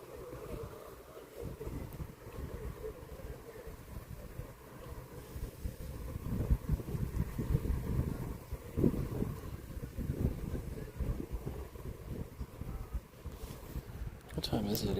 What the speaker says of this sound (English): It's like the wind that makes it so cold.